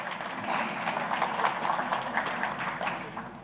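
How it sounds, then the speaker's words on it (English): At a keynote talk, an audience gives a speaker a birthday round of applause: a sustained, even wash of many hands clapping at moderate distance, with almost no talking. "Okay, you can applaud him."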